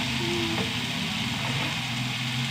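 Tomatoes and onions sauté in a hot pan, giving a steady, close sizzle and crackle that holds evenly throughout with no voices.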